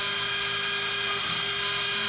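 A Reach 3D printer milling a PCB, a continuous high-pitched whine of the spinning cutter with a steady motor tone, close and constant throughout.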